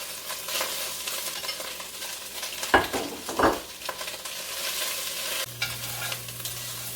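Pork fat sizzles steadily in a pan, a constant crackling hiss with two brief scraping stirs near the middle, no voices.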